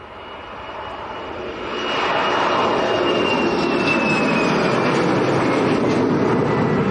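An Eastern Airways Embraer 190 begins its takeoff roll at Leeds Bradford Airport, its jet engines rising from a steady roar to a loud, sustained rumble with a faint high whine, heard from a distance outdoors.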